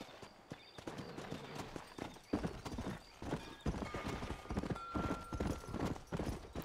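Horse hooves clip-clopping at a steady gallop in the Red Dead Redemption video game, with occasional whinnies and game ambience, fairly loud and continuous throughout.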